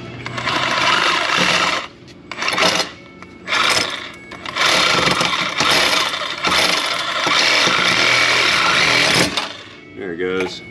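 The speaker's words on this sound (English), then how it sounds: "we'll see what happens when the Sawzall makes an attempt" A Sawzall reciprocating saw cuts into a frozen rear differential bushing on an Infiniti G37. It buzzes loudly in repeated bursts with short pauses between them, and a rattling, shifting tone comes at the end.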